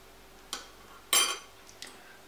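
A metal fork scraping and clinking against a bowl while mixing carp bait paste for corkball pop-ups, three separate knocks with one longer scrape in the middle, close and otherwise quiet.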